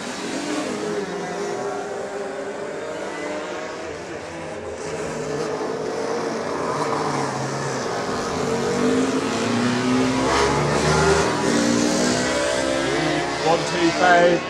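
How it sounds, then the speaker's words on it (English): Road racing motorcycles, including a small 125, rev and pull away together on the warm-up lap at the Cookstown 100 road races, a building engine roar under a commentator's voice. "the machines going out on their warm-up lap"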